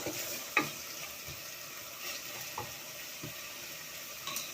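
Seasoned fish fries in a pan in a home kitchen, a faint steady sizzle with a few soft clinks and taps of a utensil scattered through it, no talking.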